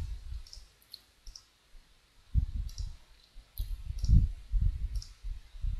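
Mouse buttons on a computer give short, faint clicks, often in quick pairs as double-clicks, repeated several times over a low background rumble.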